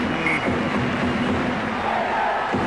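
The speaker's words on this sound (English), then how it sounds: "Gets a terrific round of applause from the Wigan supporters." Wigan rugby league supporters give a round of applause as injured player Cassidy leaves the field during a 2003 match against Widnes, a steady roar of crowd noise and clapping filling the stadium throughout.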